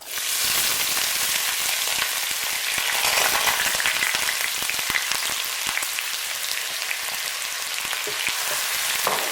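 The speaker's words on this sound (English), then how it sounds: "Once you notice that your oil is hot enough, fry your onions." Onions frying in hot vegetable oil in a pot, a dense continuous crackling sizzle with scattered sharp pops, close and steady throughout, no voices.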